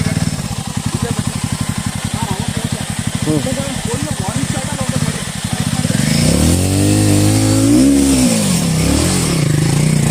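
An off-road vehicle's engine runs with a fast loud rhythmic throb, then rises into a strong rev and slides in pitch as the clutch is let out, close by on a rough trail in the Western Ghats.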